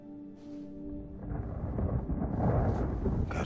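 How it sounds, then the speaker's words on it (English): Thunder and rain in the video game Wolfenstein: Youngblood, a deep rolling thunder rumble building into a loud, sustained roar with a hiss of rainfall, with no talking. "Gotta get out of the rain."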